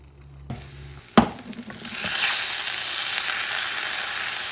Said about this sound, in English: Stir the stuff again.